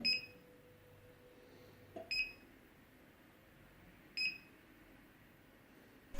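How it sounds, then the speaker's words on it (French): A Prusa i3 MK3S 3D printer, stopped after its filament runs out, emits short, faint electronic beeps at regular intervals of about two seconds in an otherwise quiet room. "la machine s'arrête, elle va se mettre sur le côté et va commencer à faire des bips"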